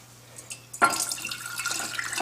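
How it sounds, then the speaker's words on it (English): The last of some homemade kit wine is poured into a mason jar, giving a short splashing, trickling pour that starts abruptly and runs steadily to the end, close and fairly loud. "I'm going to go ahead and pour the last of the wine into this mason jar."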